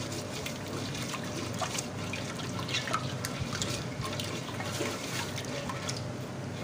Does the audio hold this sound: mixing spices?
yes